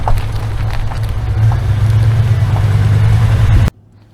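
A 2nd-gen Dodge Ram 1500 pickup with a 5.9L V8 and freshly replaced valve cover gaskets drives along with a steady, loud low engine drone that stops abruptly near the end.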